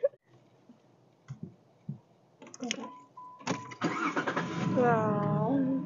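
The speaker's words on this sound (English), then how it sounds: "Just go ahead and start it." Rebuilt Jeep engine cranking and catching after a few clicks and shuffles, then settling into a steady close idle while voices talk over it.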